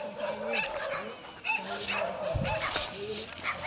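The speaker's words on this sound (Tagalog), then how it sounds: "Ang daming aso." Several dogs bark, yip and whimper on and off during an outdoor walk, some near and some farther off, mixed with people talking nearby.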